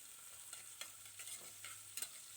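Chopped onion frying in oil in a pan for Alexandrian koshari, a steady close sizzle with scattered scraping stir strokes, no voices.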